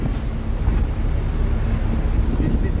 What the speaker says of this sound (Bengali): এই যে হাওয়া উঠে গেছে, ঝোড়ো হাওয়া,